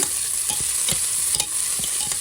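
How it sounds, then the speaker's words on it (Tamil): Tomatoes and onions sautéing in a hot pan, a loud continuous sizzle with occasional stirring scrapes; no voices. "ஒரு தக்காளியை நறுக்கி சேர்த்துட்டு கொஞ்சம் உப்பும் சேர்த்துட்டு நல்லா வதக்கி விடுங்க"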